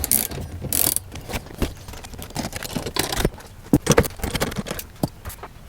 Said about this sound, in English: You are going to get your socket wrench and a socket that is 14 millimeters in size, and just rotate this out of here.